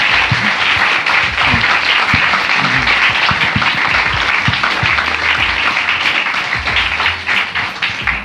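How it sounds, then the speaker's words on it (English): A crowd at a 1% for the Planet panel event in Australia gives the panelists a loud, sustained round of applause, with dense clapping and sharp individual claps throughout, tapering slightly at the very end. "how about a big round of applause for our panelists?"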